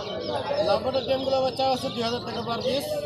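Lovebirds and cockatiels at the crowded Mirpur 1 bird market chirp and call in quick, overlapping bursts, a busy, close chorus of shrill, warbling notes.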